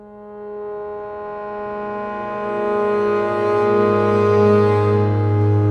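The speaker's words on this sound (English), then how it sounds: "It has like a stringy synth thing and like some airy rustling" A cinematic synth texture evoking a winter forest at night: sustained stringy, droning tones that swell and grow louder over several seconds, with a soft airy rustling layered above, no voices.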